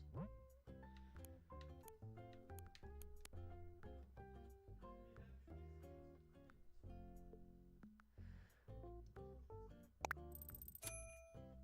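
Bells being deposited at the ATM in Animal Crossing: New Horizons, heard as a busy run of bright chiming game jingles and menu blips. A cluster of sharp high pings near the end, with a voice talking underneath.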